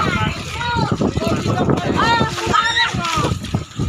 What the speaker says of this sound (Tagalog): At yan, medyo malakas na yung alon, mga idol.